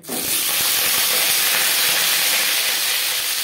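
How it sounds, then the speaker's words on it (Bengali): Pointed gourd (potol) dropped into hot refined oil in a kadai for a vegetarian curry, giving a loud, steady hiss and sizzle that starts at once and carries on without letup. "তেলটা গরম হয়ে গেছে, এবার দিয়ে দেব পটল"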